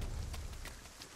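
Rain falls in the fantasy video game Dragon's Dogma 2, a dense, steady hiss with a low rumble underneath, heard alone for about a second.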